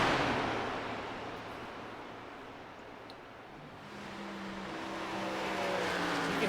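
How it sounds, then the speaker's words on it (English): A stock race car in a sim-racing video game of an Xfinity event at Atlanta lifts off the throttle to save fuel: a steady engine roar sags and softens midway, then swells back up as power returns, with no talk. "You can hear him jumping out of the throttle on that vehicle."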